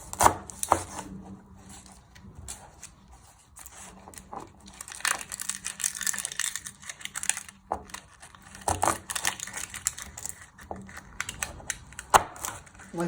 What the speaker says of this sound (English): I like to flatten it so it's more easy to chop.